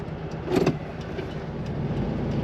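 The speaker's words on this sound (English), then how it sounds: "Today we're driving a very nice 1960 Volkswagen Beetle." A 1960 Volkswagen Beetle convertible, top up, drives with a steady low engine hum and road rumble, a brief louder mechanical swell early on, no talking.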